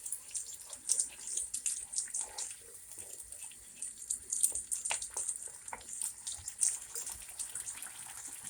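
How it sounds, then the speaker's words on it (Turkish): Water is poured into a pan of tomato paste that has just been fried, a steady trickle and splash with hissing sizzle, close and continuous for several seconds. "Aynı yanda salçamızı biraz kavurduktan sonra içerisine şöyle bir çay bardağına yakın su ilave ediyoruz."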